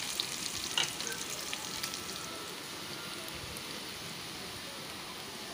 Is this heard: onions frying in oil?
yes